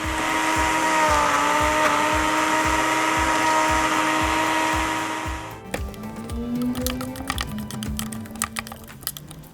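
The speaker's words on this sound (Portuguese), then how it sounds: "Mas a maioria das pessoas não tem em casa, o liquidificador já está de bom tamanho" A blender mixing peanut candy ingredients whirs loudly and steadily with a rhythmic churning pulse, then cuts off, leaving scattered light clicks and clatter.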